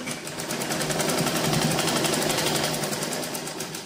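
Sewing machine stitching the seam of a girl's frock, a steady rapid mechanical whirr with fast regular needle clatter, loud and close, running continuously without talk.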